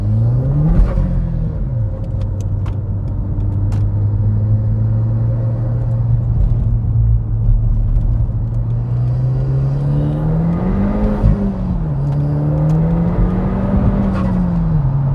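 Audi 2.0 TFSI car with a torque mount fitted, engine droning steadily and loud with rising and falling pitch as it accelerates hard from a standstill, heard alone from inside the car.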